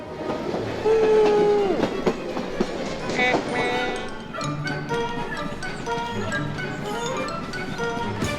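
The Budapest children's railway, a small train running through Buda, rolls past with clattering wheels and a brief horn-like tone, while people talk nearby over the rail noise.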